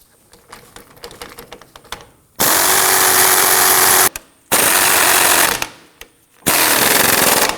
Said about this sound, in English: we're going to start by using an 18mm deep socket on our air gun to try and blast these free